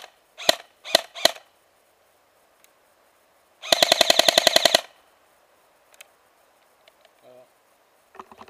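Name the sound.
Jing Gong G36K airsoft gun firing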